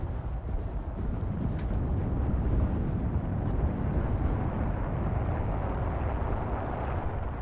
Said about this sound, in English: That's friendly airstrike.